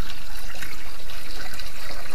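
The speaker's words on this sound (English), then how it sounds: "Let's pour this whole bucket in." A bucket of water is poured steadily into a drain during an RV floor repair, a continuous rushing splash lasting a couple of seconds.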